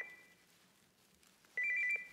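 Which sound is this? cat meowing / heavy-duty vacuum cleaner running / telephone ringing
telephone ringing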